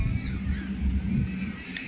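A harsh squawk from a bird chasing small fish rings out over a steady low rumble of outdoor background noise.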